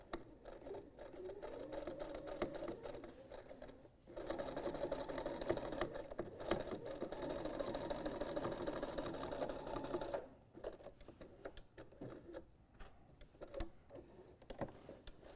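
A sewing machine stitches the zipper fly on a pair of jeans with a steady, fast mechanical whir. It runs continuously for about ten seconds, pauses briefly near the start, then stops and leaves scattered quiet clicks and handling noises.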